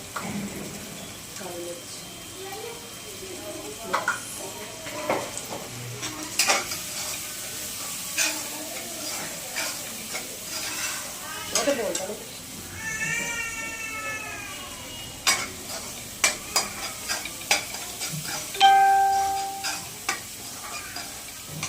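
Soft sizzling of turmeric and spices tempering in hot oil for poha, with scattered clinks and scraping of a utensil against a pan; a faint meow-like cry appears briefly.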